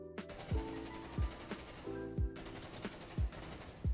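Automatic gunfire in Call of Duty Cold War on the Standoff map, with rapid steady rattling bursts broken by punchy recurring low impacts, loud and close throughout.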